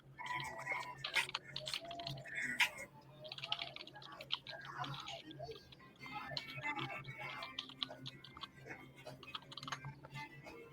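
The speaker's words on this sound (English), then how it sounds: "I'm typing in this email real quick" Rapid typing on a computer keyboard while an email is entered, with quick irregular clicks and short bursts of keystrokes that run close and fairly faint for several seconds, with no talking over them.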